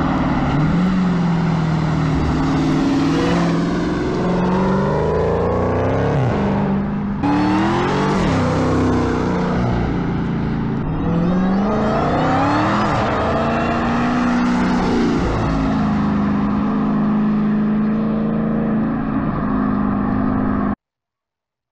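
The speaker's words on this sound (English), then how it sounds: "It's when you step on it, that's where the vibrant resonators, I think you can really hear them." A Dodge Hellcat fitted with Vibrant 1794 mid mufflers revs hard, its loud, close exhaust roaring and rising in repeated pulls with brief lifts between, then cutting off sharply.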